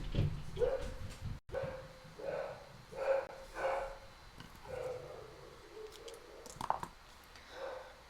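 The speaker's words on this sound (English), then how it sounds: "My dog's just freaked out about something." A household dog barks repeatedly in short, irregular bursts at moderate volume indoors, with brief gaps between the barks and no speech over them.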